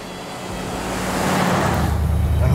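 The engine of a Speedster car hums under road noise as it drives along a road, with a broad steady rumble that grows slightly louder while it accelerates.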